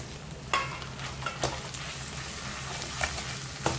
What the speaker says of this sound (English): Mix it well along with the other ingredients and saute it well for some time.